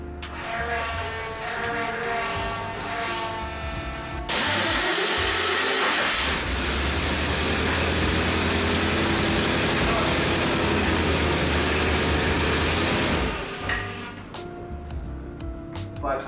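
A vehicle engine runs steadily and loudly indoors as a Ford Bronco and a Toyota 4Runner are moved around a shop, a continuous low rumbling drone that swells, holds for several seconds, then eases back.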